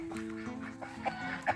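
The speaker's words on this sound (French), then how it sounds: "Le dernier coq est arrivé." A rooster at a farm animal refuge gives a brief, close call, a short burst of harmonic clucking tones over a soft outdoor background.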